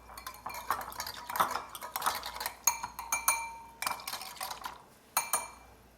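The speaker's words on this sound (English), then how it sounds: "And give it a little stir." Stirring yeast mixture in a bowl for bread dough, heard as a close run of light clinks and scrapes of a utensil against the bowl in an uneven rhythm.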